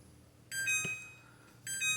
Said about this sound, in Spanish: la alarma de la puerta ya nos está alarmando, ya nos está indicando que está abierta